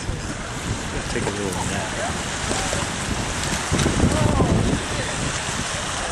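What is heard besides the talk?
wind blowing at Lake Erie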